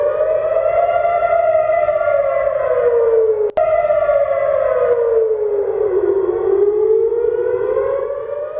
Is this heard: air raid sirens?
yes